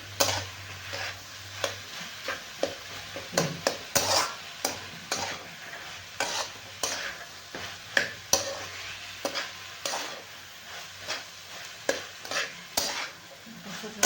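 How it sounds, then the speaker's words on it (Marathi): Onions cook in ghee for baingan bharit, with a soft sizzle under rhythmic stirring, regular scraping strokes of a spoon against the pan roughly every second. "आपल्या कांदे तुपात थोडी वेळ शिजायला लागेल"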